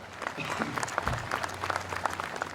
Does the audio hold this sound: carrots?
no